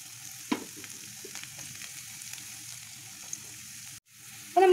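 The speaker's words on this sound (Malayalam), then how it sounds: "അപ്പോൾ നമ്മൾ എടുത്ത് വെച്ചിരുന്ന ഇഞ്ചി വെളുത്തുള്ളി പച്ചമുളകും ഞാൻ അതിലേക്ക് ചേർത്ത് കൊടുത്തു." Ginger, garlic and green chili sizzle and fry in hot oil with a steady crackle, broken by a few stirring scrapes and a brief pause near the end before the sizzle surges up loudly again.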